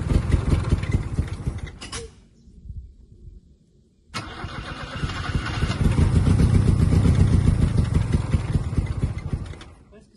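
A Chevrolet Chevette engine cranks and sputters, cuts out briefly, then cranks again and revs up loudly before settling, with faint voices nearby.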